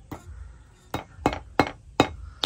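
Children striking with hammers, five sharp metallic clinks with a bright ringing edge, coming in an irregular rhythm close by, with faint background sound between the strikes.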